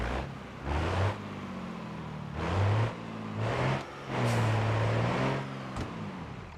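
A D-Series truck engine in BeamNG revs in several surges, rising and falling in distinct bursts with a low, throaty mid-range growl, fairly close and with no talk over it.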